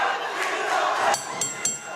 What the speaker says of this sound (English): This crowd chanting, hit the ref.